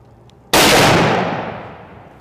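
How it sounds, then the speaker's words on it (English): Single Merkel Helix rifle practice shot on a range, a sharp loud crack with a long decaying echo after a quiet start. "takes a range test to prove his worth behind the rifle and get familiar with the Merkel Helix"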